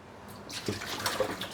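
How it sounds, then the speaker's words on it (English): A little water is poured into a hot pan of prawns for a stir fry, giving a steady, close splashing and sizzling hiss that starts about halfway through and continues to the end. "And just add them straight into the pan with a little bit of water."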